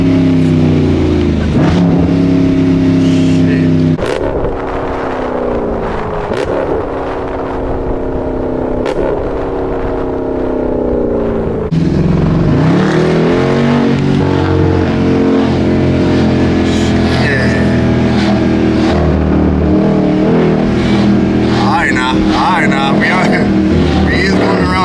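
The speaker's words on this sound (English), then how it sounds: "Get some revs." A Jeep SRT SUV engine revs repeatedly and loudly, heard from inside the car, with a sharp gear shift midway and a few voices talking over it.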